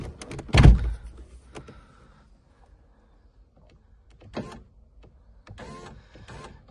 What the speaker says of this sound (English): I'm going to try and use the window power to get the window up